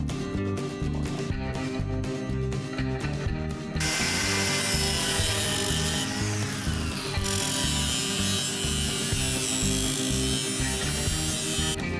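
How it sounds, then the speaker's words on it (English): Metal sides of a coal stove heat shield being cut, a continuous rasping, ratcheting grind that grows harsher and louder partway through, close and alone with no talk. "Then I have to cut the sides and make tabs, so I can screw it down,"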